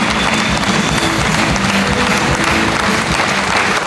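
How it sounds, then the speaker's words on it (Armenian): Steady, dense applause from a television studio audience welcoming Levon, a grey-haired elderly man known for roller skating through the city streets, sustained and loud throughout with no pauses. "Ծափարեք Լևոնին"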